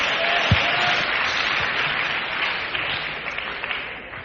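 Congregation in a church applauding, a dense steady wash of clapping that holds for the full stretch with a few sharper peaks, fairly loud and unbroken.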